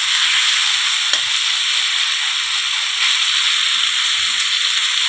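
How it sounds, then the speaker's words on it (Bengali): Onions frying in a pan for a taro stolon curry give a steady, close, loud sizzle that holds evenly for the whole stretch, with a few faint stirring knocks and no talk. "পেঁয়াজটাকে ভালো করে একটু ভাজা ভাজা করে নিই।"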